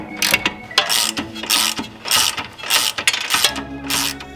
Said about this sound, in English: from here, you're just gonna loosen this one all the way.